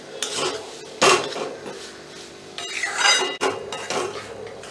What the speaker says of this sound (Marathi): हे आपल्याला मंद गॅसवर दहा पंधरा मिनटं भाजून घ्यायचं आहे सारखं हलवत राहायला लागणार आहे